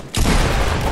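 A pump shotgun fires in Fortnite Battle Royale: one sudden loud blast after a brief quiet moment, followed by a rumbling wash of gunfire and noise that does not fade.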